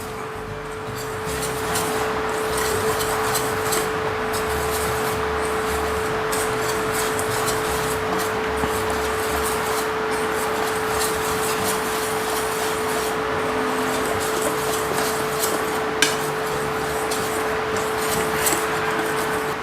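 Donut dough with sugar and yeast is mixed in a bowl, a steady rubbing and scraping that runs continuously under a faint constant hum, with a brief knock near the end.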